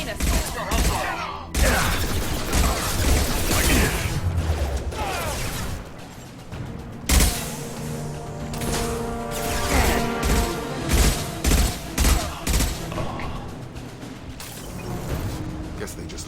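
Gunfire crackles in Mass Effect 2 as Blue Suns and Vorcha mercenaries shoot, loud bursts and volleys of shots with impacts and booms coming in uneven clusters, mixed with game voices and effects.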